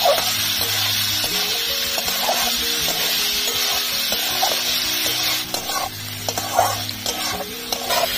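Fried onion stirred with green chillies and ginger-garlic paste in a pan, a steady sizzle with repeated scraping strokes of the spoon in a regular rhythm, close and loud.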